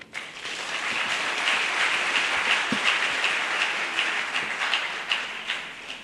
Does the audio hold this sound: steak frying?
no